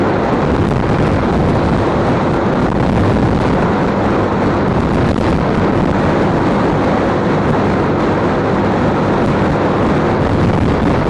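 Wind roars continuously and loudly over the rider of a moving Honda CBF125 motorcycle, a dense rushing buffet that stays at the same level throughout.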